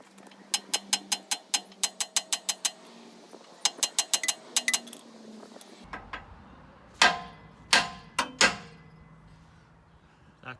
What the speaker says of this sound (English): let's see if I've got enough room to swing a hammer at least